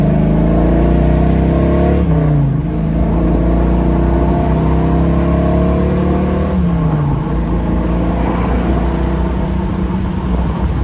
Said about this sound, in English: It goes through the gears really nice and easy.